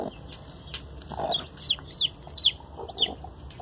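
Broody hen clucking softly with newly hatched chicks giving several high, rising peeps close by, a handful of short chirps spread over a few seconds against quiet background.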